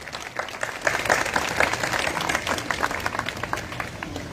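A crowd applauds loudly and steadily, dense clapping filling the whole stretch without letup, welcoming guests at a church feast of the Assumption of Mary.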